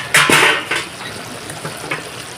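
Food in a pan bubbling and sizzling while being cooked for a healthy children's dish, with a few clattering spoon-and-pan knocks and scrapes near the start and softer stirring after.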